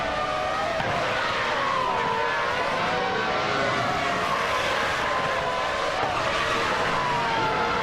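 Racing game cars, including a Stewart SF02 and a Minardi M198, overtaking: a steady, dense wash of engine whine and road noise with several overlapping pitches sweeping up and down, moderately loud and continuous.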